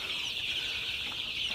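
Young Sonali super hybrid chicks chirp and cluck steadily in a close, continuous chorus, with no talking over them.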